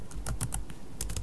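Quick, light clicks of typing on a computer keyboard while coding in Python, a rapid uneven run of close taps with short pauses between bursts.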